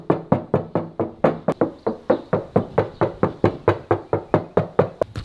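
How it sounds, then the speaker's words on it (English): Knuckles knock on the side door panel of a third-generation Camaro after Dynamat sound deadening was fitted, giving around twenty dull, evenly spaced thuds in a steady rhythm, close up with no talking. "I recorded me knocking on the side panel earlier, and before I put the Dynamat in, and then I'll record it now"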